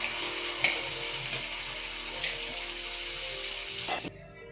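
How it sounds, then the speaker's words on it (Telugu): Potatoes frying in oil, giving a soft, steady sizzle with faint crackles and pops that stops abruptly near the end. "ఇదైతే పొటాటోస్ అయితే ఫ్రై అయిపోయినాయండి"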